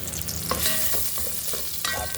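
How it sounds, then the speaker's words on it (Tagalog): Onion and garlic are sautéed for sinigang, with spatula scrapes and knocks against the pan over a continuous sizzle, close and moderately loud. A single short spoken word is heard. "kaunting gisa lang naman para may kaunting aroma yung ating sibuyas at bawang."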